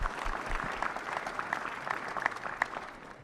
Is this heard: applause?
yes